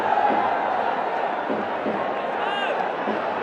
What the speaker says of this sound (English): they're cheering every run now, every single run